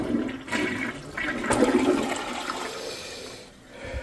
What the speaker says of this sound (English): Let's do a quick number 1 flush.